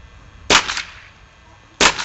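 Paintball gun firing during a retention test, two sharp close shots about a second apart with a faint hiss between them.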